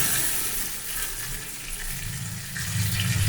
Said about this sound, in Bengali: তো এবার আমি একটু গরম জল দিয়ে দেবো।